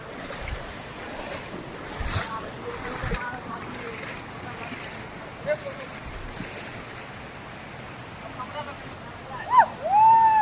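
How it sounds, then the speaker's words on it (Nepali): A small waterfall near Kalitar waterfall in Sindhuli rushes in a constant, moderately loud wash of water, with voices talking over it and a few brief louder splashes near the end. "ओ झरनाको भाइ सानो झरना"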